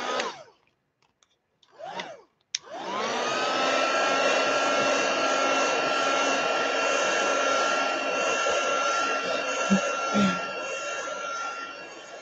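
A hair dryer clicks on after a couple of brief bursts and then blows steadily and close for several seconds over a mixed media canvas collage, with a faint sigh near the end.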